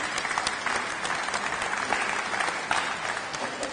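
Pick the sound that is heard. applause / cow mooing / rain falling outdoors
applause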